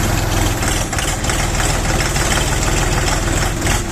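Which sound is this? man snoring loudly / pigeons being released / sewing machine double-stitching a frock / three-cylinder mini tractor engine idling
three-cylinder mini tractor engine idling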